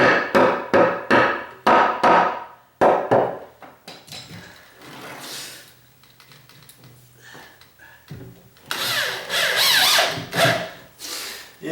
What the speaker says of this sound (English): I'm trying to screw down through the angle of the dangle